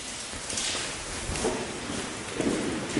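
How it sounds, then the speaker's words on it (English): Steady rain falling outside an abandoned hilltop mansion, a soft continuous patter with scattered drips and faint shuffling, heard alone at moderate distance. "the sound of the rain is really nice"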